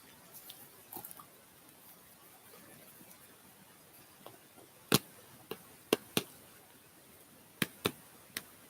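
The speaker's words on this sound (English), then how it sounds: "Can you guys hear the crunch?" Hard candy being crunched between the teeth, heard close up as a few sharp, scattered cracks, some in quick pairs, over a quiet, hissy background.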